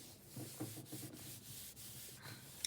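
Coffee being rubbed into paper for a junk journal, making soft repeated scrubbing and brushing strokes close up, quiet and steady, with no talk.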